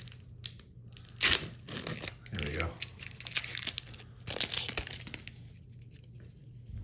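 Olympic trading card packs torn open by hand, giving two sharp bursts of crinkling, ripping foil wrapper near the mic with quieter rustling between, while a person speaks briefly.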